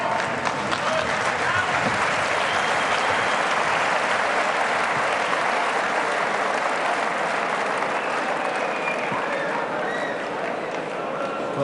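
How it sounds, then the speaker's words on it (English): A heavyweight boxing crowd roars and applauds in a dense, continuous wash of cheering, loud throughout, with a ringside commentator talking over it. "Well, the crowd enjoying this one."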